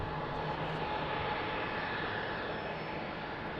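Aircraft engine roar at Lisbon Airport during takeoff in crosswind conditions, a steady broadband rumble held at constant loudness throughout, with no voices.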